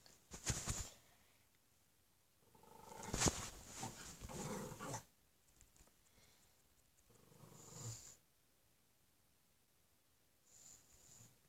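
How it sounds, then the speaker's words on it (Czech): A dog barking in several scattered bursts, some short and some longer runs, fairly faint and somewhat distant, with quiet gaps between. "mě teď štěká pes"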